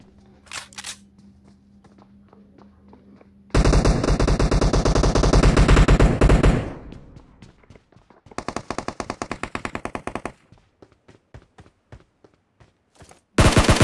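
Heavy automatic gunfire in the battle royale game BGMI at Pochinki, in dense loud bursts, first a long sustained stretch then a second rapid burst, with scattered single shots and short clicks between.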